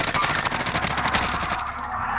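Video game gunfire from an online multiplayer shooter, loud bursts of rapid automatic fire running continuously for about two seconds with a dense rattling texture, then tailing off.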